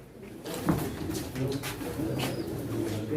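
A female pigeon coos softly at a pigeon auction, a few low throaty calls in a row amid faint room noise and a murmur of people talking.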